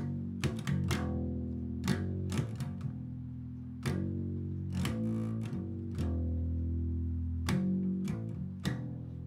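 An electric bass plays a short repeated riff of plucked low notes, clear and close, with steady rhythmic attacks and no voices.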